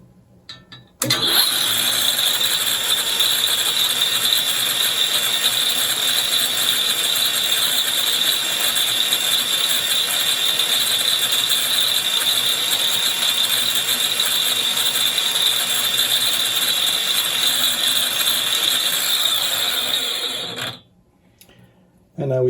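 On a DIY dynamic balancer test bench, a propeller spins up abruptly to a loud, steady high-pitched whine. It holds for nearly twenty seconds, then cuts off.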